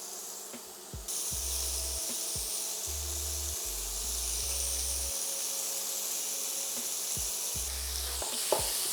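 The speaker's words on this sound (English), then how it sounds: "the pan is nice and hot, so I'm going to start to break in the mince" Beef mince sizzles and fries steadily in a hot pan, a continuous bright hiss with a few scraping stirs, close and alone with no talk.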